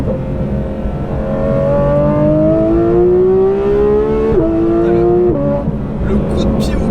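A Porsche GT3 RS with a new exhaust revs loud and close, its engine note climbing steadily through long pulls with a brief shift-like break before rising again, then dropping back to a rumble at the end.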